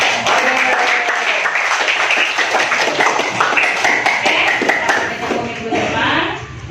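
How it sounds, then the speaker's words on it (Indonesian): A classroom of students applauding together at the end of a lesson, dense rapid clapping that holds steady for several seconds before tapering off, with a few voices underneath. "Berikan aplaus untuk kesemua"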